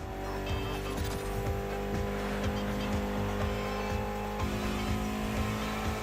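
A Mitsubishi inline four-cylinder of about 280 horsepower, tuned for gymkhana in The Crew Motorfest, roars steadily at high revs, with tire squeal and skidding under the engine note.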